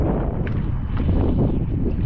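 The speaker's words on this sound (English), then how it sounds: "it was really windy" Steady wind buffeting the microphone at Donner Lake during an open water swim, a continuous low rumble with gusty fluctuations and no voices.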